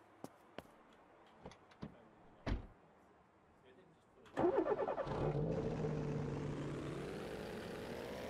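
A Lada car in the Auto Sale Life video game: a few sharp clicks and knocks, then the engine cranks into life and settles into a steady, loud running drone that holds to the end.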